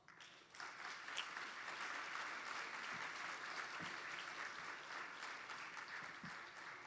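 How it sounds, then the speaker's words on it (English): Sustained applause from a conference audience, a dense, even wash of clapping that carries steadily at full level across the whole stretch with no speech over it. "Let us give them a round of applause."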